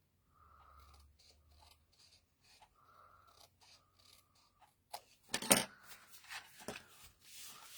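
Scissors trim paper for a Christmas craft, with soft intermittent snips and paper rustling early on, then a louder burst of crisp cutting and handling near the close.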